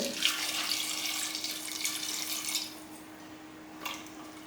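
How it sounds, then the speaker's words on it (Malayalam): Water is poured into a cooking pot for a Kerala-style curry made with non-sour mango. A steady, close pour runs for about two and a half seconds, then drops to near quiet with one last small splash. "നമുക്ക് പാകത്തിന് വെള്ളം ഒഴിച്ച് കൊടുക്കുന്നുണ്ട്."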